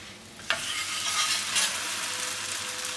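A lacha paratha cooks on a hot tawa over low heat, giving a soft continuous sizzle up close, with one brief clack early on as it is turned.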